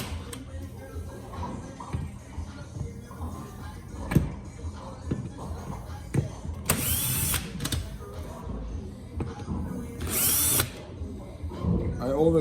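Power driver with a T30 Torx bit removing front bumper bolts on a Porsche Boxster 718 GTS; two short high-pitched whirring bursts stand out over workshop clatter and quiet talk in the background.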